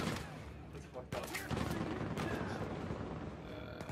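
Gunfire in the video game Uncharted 4, aimed at a sniper: a few sharp shots in the first half, then a dense rattle of continuous fire and impacts, loud and close.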